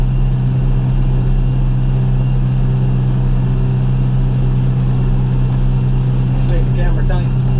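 A John Deere 5101 tractor engine runs steadily with a loud, constant low drone and no change in pace, holding close throughout.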